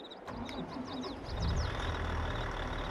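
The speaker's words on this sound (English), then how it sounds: "So back into the harvester, turn on the engine." A sugar beet harvester in Farming Simulator 22 runs with a continuous mid-pitched engine drone that swells slightly partway through. Faint repeated high beeps sound over it, with no talk.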